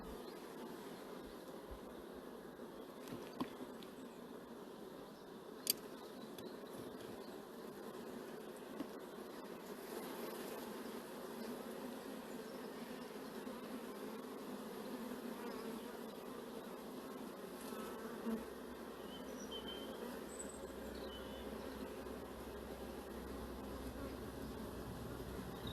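Honeybees hum in a dense, steady drone at an open beehive while frames are inspected, a continuous close buzz with occasional faint knocks and clicks.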